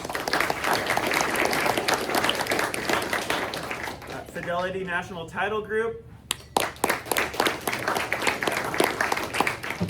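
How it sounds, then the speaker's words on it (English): Luncheon crowd at a press event applauds sponsors, a loud burst of clapping that fades, followed by a brief spoken phrase over the room and then more scattered claps. "let's give them a round of applause"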